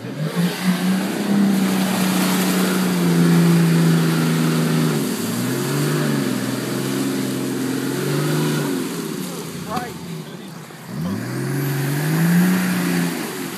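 Nissan Patrol reversing through mud and water at a drop zone, its engine revving in repeated rising and falling surges close by, with people talking over it.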